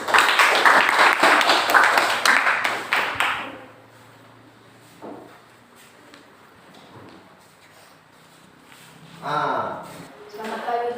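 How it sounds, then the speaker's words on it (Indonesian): A classroom audience claps loudly and steadily for about three and a half seconds before the applause cuts off. The room goes quiet, then a voice begins speaking near the end. "Berikan tepuk tangan dulu."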